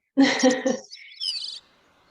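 A Gray-cheeked Thrush sings one short squeaky, ethereal phrase, clear and close against a quiet background, with a buzzy rising tail at the end.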